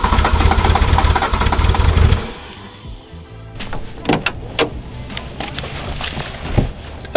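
A 1979 VW Rabbit diesel engine cranks loudly for about two seconds during a cold start attempt, then cuts off, leaving quiet clicks and a few sharp knocks as it fails to catch.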